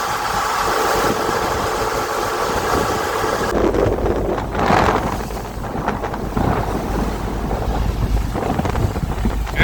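Two V12 engines in a cruise boat's engine room drone with a loud, dense rumble, mixed with heavy wind buffeting across the microphone.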